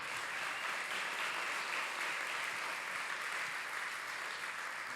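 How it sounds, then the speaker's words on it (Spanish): A church congregation applauds God, steady dense clapping sustained throughout at a moderate distance with no talking. "dele un aplauso grande a Dios"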